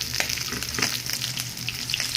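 Tuna pieces fry in hot oil in a pan, giving a steady, close, crackling sizzle with scattered pops throughout, with no talking.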